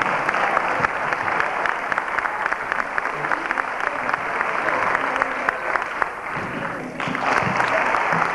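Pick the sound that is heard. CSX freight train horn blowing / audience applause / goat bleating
audience applause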